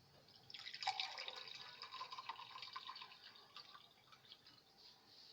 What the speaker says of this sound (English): Now watch out, I pour it into my glass.